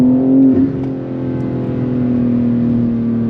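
A modified BMW G80 M3 drives in manual mode through a New York City rainstorm, its engine rising in a loud, close, sustained rev with a brief dip partway through, and no voices.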